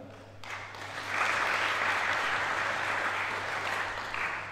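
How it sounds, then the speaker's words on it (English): An audience at a network meeting breaks into sustained applause, a dense, even wash of clapping that swells after a moment and holds steady. "So a round of applause for that work"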